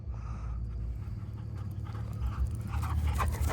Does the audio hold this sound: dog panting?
yes